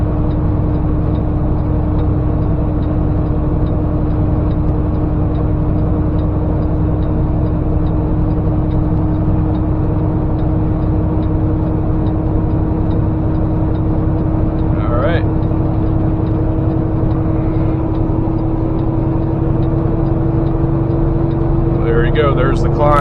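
Semi truck diesel engine climbing Monteagle mountain, a steady loud low drone with a constant hum throughout, with brief higher chirps or clicks near the middle and end.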